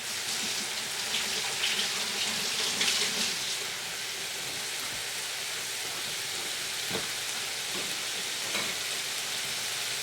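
Thick bacon slices sizzle steadily in a pan while cooking shrimp and grits, a dense, even crackle holding at a constant level with a few louder pops, close and alone without talk.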